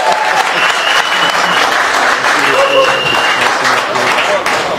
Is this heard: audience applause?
yes